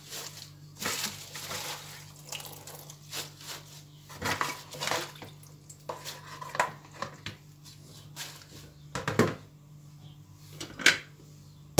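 A cooking pot clanks and scrapes amid scattered kitchen clatter as hot water is poured in, with knocks and a brief metallic rattle over a low steady hum.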